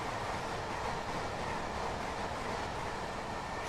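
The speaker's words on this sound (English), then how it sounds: "Oh, Gatwick Express train." A Gatwick Express train rushes by in the Train Sim World 2 game on the London commuter line, making a steady, dense roar of rail noise that holds at an even, fairly loud level throughout with no voices.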